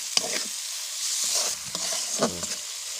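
Spices being sautéed in a pan with rohu fish and chopped onion greens, a steady close sizzle with sharp scraping stirs and clinks of a spatula against the pan, no voices.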